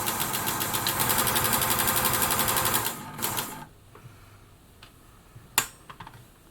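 An Elna Air Electronic sewing machine fitted with a walking foot runs a zigzag stitch in a loud, steady, rapid whir for about three seconds. The motor then stops, leaving a few faint clicks and one sharp tap.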